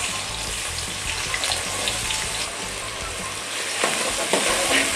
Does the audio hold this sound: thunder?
no